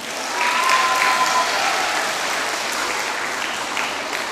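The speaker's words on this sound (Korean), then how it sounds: "박수 부탁합니다." A concert-hall audience at a children's song festival claps to welcome the professional players of the Hwaseong Symphony Orchestra as they walk on, a dense, even burst of applause lasting a few seconds.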